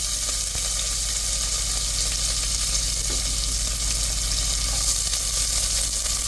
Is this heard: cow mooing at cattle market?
no